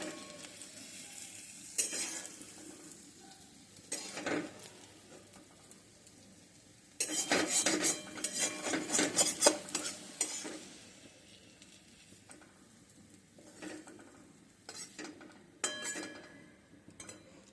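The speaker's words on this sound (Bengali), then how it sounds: "এখন আমি মেথি আর কালো জিরে পুরন দিয়ে দেব" Nigella seeds and fenugreek seeds tempering in hot oil in a home Bengali kitchen: a steady close sizzle, with louder crackling bursts as the seeds go in and light clinks of a utensil against the pan.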